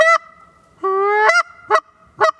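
Loud, close honks of a Canada goose imitated on a short-reed goose call: a single sustained rising note followed by three short clipped honks, with no talk.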